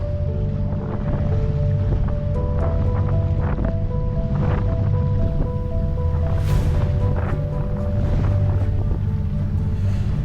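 Sailboat motoring out at sea under engine, a steady low engine drone with wind buffeting the microphone and waves washing around the hull, continuous and close throughout.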